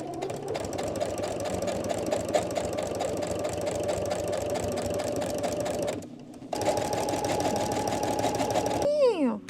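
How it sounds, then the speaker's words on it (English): A sewing machine runs steadily, stitching fabric pieces of a cauldron purse; the close mechanical whir carries on for several seconds, stops briefly, then resumes, with a short high squeak near the end. "So now I'm gonna stitch these guys down on top of the X."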